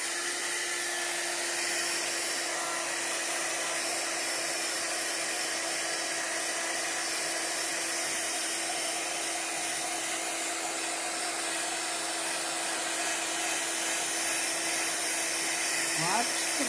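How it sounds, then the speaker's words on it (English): A heat gun blows steadily on a stamped card to melt embossing powder, giving a continuous airy whoosh with a steady motor hum that holds unchanged from start to finish at close range. "I'm about to use the heat gun."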